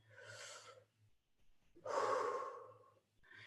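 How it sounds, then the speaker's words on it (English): A slow, deep breath drawn in and then released, airy and close, with a brief pause between the inhale and a longer, fuller exhale. "I immediately take a breath"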